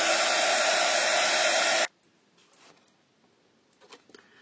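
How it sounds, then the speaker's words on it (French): A heat gun blows hot air onto crackle embossing paste, a loud, close, steady whoosh that stops abruptly after about two seconds, leaving only faint small noises. "pour aller plus vite, je vais vous la faire réagir avec le heat gun"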